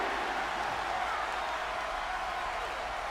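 Arena crowd in the WWE 2K23 wrestling game roaring in a steady, dense wash of cheering and murmuring that holds at an even level throughout, with no commentary voice over it.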